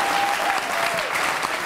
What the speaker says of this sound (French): je vais vous demander d'applaudir dans vos mains pour m'encourager